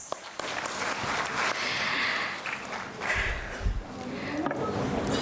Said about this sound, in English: let us express our heartfelt appreciation to all our sponsors and partners with a warm round of applause